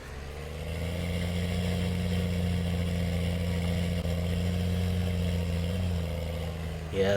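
A John Deere 6920 tractor engine in a farming video game runs at a steady, loud idle-to-cruise drone throughout, with a low humming tone and a brief shift near the end.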